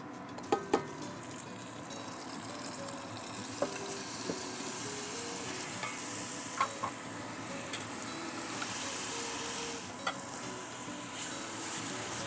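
Vegetables frying in oil in a heavy soup pot, a steady close sizzle with occasional stirring clicks and scrapes against the pot, no talking.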